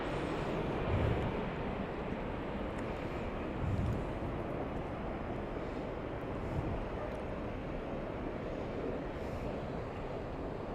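An airliner arriving from Narita at LAX makes a steady, broad distant roar with rumbling low end and wind buffeting, continuous throughout without any talk.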